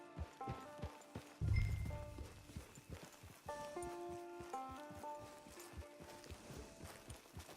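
Horse hooves clip-clop in a steady walking rhythm in the Western video game Red Dead Online, with a brief loud thump midway and sustained musical tones running underneath.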